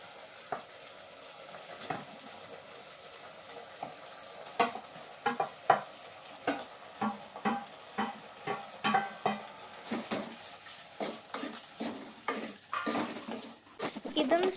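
Cooked rice being stirred into spinach in a frying pan, with a steady sizzle and repeated scraping knocks of a spoon against the pan that quicken and grow louder.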